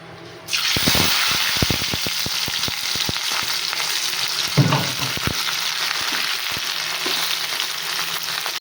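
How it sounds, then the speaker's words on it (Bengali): Green beans frying in a pan in a home kitchen during cooking for a birthday meal, a loud continuous sizzle starting abruptly, broken by scraping stir strokes and clatters as the beans are moved around, with no talking. "বিনস ভাজা কমপ্লিট"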